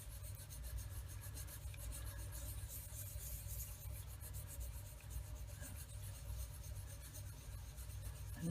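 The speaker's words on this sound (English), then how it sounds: "don't be afraid to just very lightly sand that spot a little longer, go back and forth" Faint, steady back-and-forth rasp of sandpaper lightly sanding the gun barrel of a 1/35 Italeri Leopard 2 plastic model tank, continuous and close with no talk.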